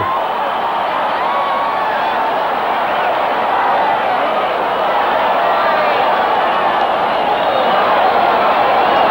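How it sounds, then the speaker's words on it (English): A stadium crowd of some 60,000 at a Colombia vs Ecuador 1990 World Cup qualifier keeps up a steady, dense roar and buzz throughout, loud and continuous with no single voice standing out. "there's quite a buzz in the crowd, as you would anticipate, from 60-odd thousand people"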